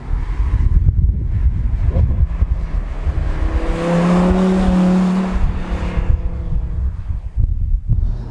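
An Audi R8's engine and exhaust rise in a smooth, building tone while the car drives, heard from inside the car. Wind and road rumble surround it, and the engine note swells at mid-clip before easing off.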